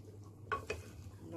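Two quick scraping clinks as baked cauliflower and chickpeas are stirred in a pan, faint and close over a low background hum.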